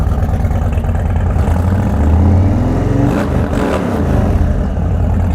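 A custom Indian Sport Chief motorcycle with only 40 miles on it, its engine loud and close with a deep rumbling idle and a short swell of revving in the middle before settling back.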